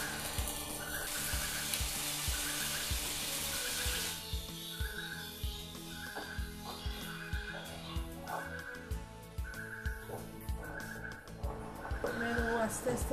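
Ginger, onion and garlic paste fries in a pan with a steady sizzling hiss, stirring clatter and a voice talking over it.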